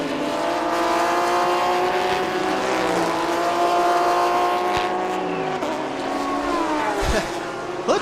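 Race car engine during a Thailand Super Series race, a long-nosed number 7 car among the field: a loud, sustained high-revving drone with shifting pitch and a brief low thump near the end, steady throughout.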